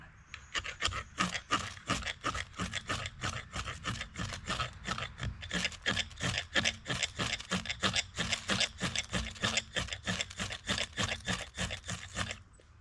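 Ferro rod struck again and again to throw sparks, a long run of quick, evenly spaced raspy scrapes, close and fairly faint, with no talk.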